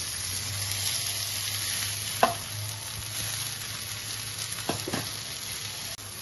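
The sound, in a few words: rice frying crisply in a pan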